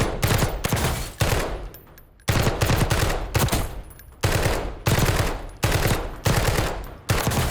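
Gunfire in Call of Duty Black Ops 6: loud bursts of automatic fire, each lasting about a second, repeating in a steady rhythm with short gaps between them, close and dominant with no talking.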